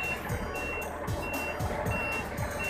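A dump truck backing up on a narrow road gives steady repeated reversing beeps at an even rhythm, loud and close over a low engine rumble.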